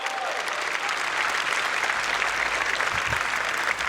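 An audience at a Star Citizen game-developer presentation claps steadily throughout, a dense, even wash of applause with no pauses.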